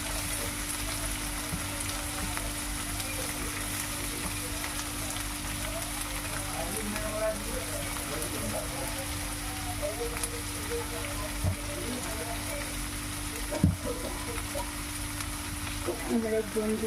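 Sliced onions frying in hot oil with bay leaf as the base for a country chicken curry, a steady close crackling sizzle with occasional stirring knocks against the pan, under a constant low hum.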